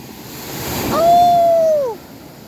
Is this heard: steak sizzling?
no